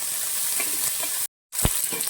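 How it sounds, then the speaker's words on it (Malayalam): Shallots sautéing in a pan for a ladies' finger (okra) mappas, a steady fine sizzle with a short gap, then a stirring scrape and renewed crackle. "അതിലേക്ക് ചെറുള്ളി ചേർക്കുവാണ്. ചെറുള്ളി നന്നായിട്ട് വഴറ്റിയെടുക്കണം."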